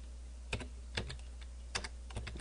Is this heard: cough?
no